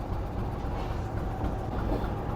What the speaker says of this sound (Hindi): ये हबीबकोट जंक्शन पर अप्रोच बना रही है ट्रेन